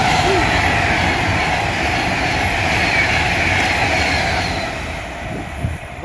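A train rushes through a railway station on a line toward London, a loud sustained rumble and rail roar that fills the space and eases slightly near the end.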